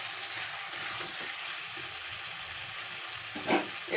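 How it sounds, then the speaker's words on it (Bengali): Potatoes sauté in a pan with cooked-down spice paste for a Bengali mutton fat curry, giving a steady close sizzle with soft stirring scrapes and a short louder clatter of the spatula near the end. "আলুটা দিয়ে আমি ভালো করে এটা কষে নিচ্ছি"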